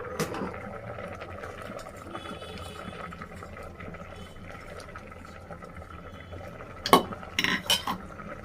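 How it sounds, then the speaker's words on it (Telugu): A pot of toor dal and cluster bean curry with tomatoes added simmers quietly, then near the end a spoon stirs it with a short burst of close metallic clinks and scrapes against the pot. "దీన్ని కలుపుకోవాలి"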